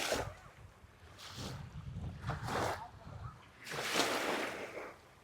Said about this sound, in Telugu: ఈ సముద్రం లోతు ఎంత సముద్రం ఇది చూడండి నీళ్ళు అలలు ఎలా వస్తున్నాయో